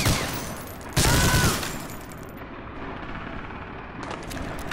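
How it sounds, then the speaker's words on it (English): Machine gun fire in Medal of Honor Allied Assault during the Omaha Beach fight, with a loud burst of rapid shots followed by more sustained firing and battle noise. "You shouldn't have given me a machine gun."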